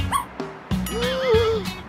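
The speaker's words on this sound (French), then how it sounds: "C'est un petit chiot tout mignon." A small puppy in a horror maze video game lets out several short whimpers and yips, a brief high whine rising and falling, close and fairly clear over faint background.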